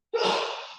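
A single short, breathy sneeze bursts out, fairly soft and close, lasting under a second.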